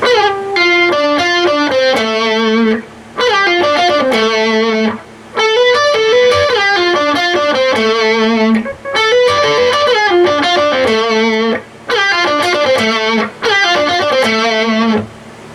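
Distorted electric guitar plays a quick descending slide-in lick from Cream's "Badge" solo, repeated in several phrases with short gaps between them.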